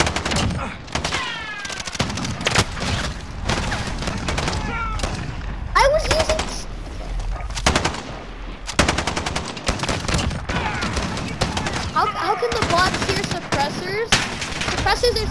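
Suppressed gunfire in a Call of Duty video game comes out surprisingly loud, with rapid repeated bursts and chaotic combat noise filling the whole stretch as a player talks over it.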